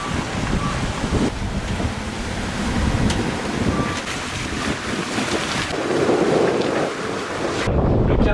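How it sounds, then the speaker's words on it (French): Ocean surf pounds against sea cliffs off the Dominican Republic coast, heard from a sailboat as a continuous loud roar of waves and gusting wind buffeting the microphone. "Et je pense qu'il y a le ressac aussi, hein. Il y a des falaises, ça doit taper dedans là."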